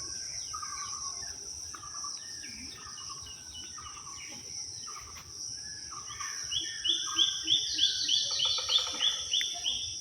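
Morning birdsong in a village near Muladi, Barishal, Bangladesh: repeated chirps and calls, growing louder toward the end, over a steady insect drone and faint outdoor background.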